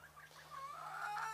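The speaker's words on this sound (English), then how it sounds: "I got some new chickens, Nova Browns" Nova Brown chickens on an allotment cluck and murmur in a steady, overlapping chorus close by, rising a little toward the end over a low constant hum.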